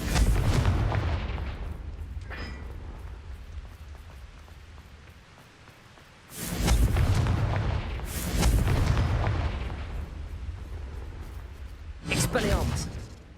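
Confringo fire-spell blasts explode in the video game Hogwarts Legacy: roughly four heavy, booming bursts at irregular intervals, loud and close, with a low rumbling tail lingering between hits.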